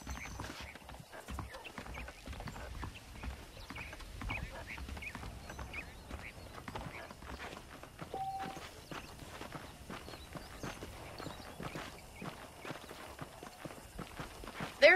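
Horse hooves clip-clop at an easy walking pace in Red Dead Redemption, a steady, moderately close rhythm of soft thuds over a quiet outdoor bed.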